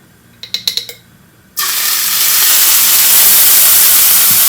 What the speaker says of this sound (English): Saute that for a little bit.